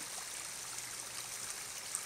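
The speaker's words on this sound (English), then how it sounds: "these are pretty cool places when you find the streams" A small forest stream trickles steadily among cedars, a soft continuous wash of running water, fairly faint and even throughout, with no voices.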